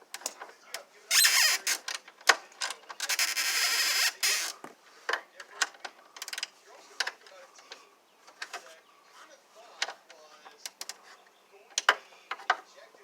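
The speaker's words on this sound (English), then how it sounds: "Try to do it with this gear wrench" Gear wrench ratcheting on a drive belt bolt of a Honda HRX 217 mower, sharp clicking bursts in irregular runs with a longer rasping stretch early on, close and fairly quiet.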